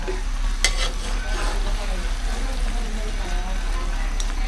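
Tinurok cooks in a pan over a fire, giving a steady, close sizzle with stirring scrapes and clinks throughout.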